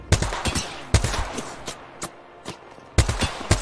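Gunfire in a video game shootout: sharp, loud shots in irregular bursts, some fired close together and others spaced apart, with fainter distant reports in between.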